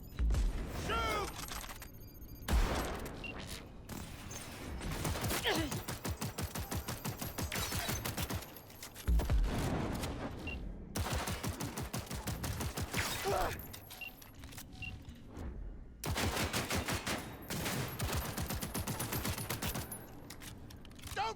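Bursts of gunfire follow an order to shoot, loud crackling volleys in several separate stretches with short quiet gaps between them.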